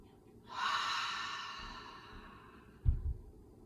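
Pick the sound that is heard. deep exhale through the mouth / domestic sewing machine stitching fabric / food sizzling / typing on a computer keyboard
deep exhale through the mouth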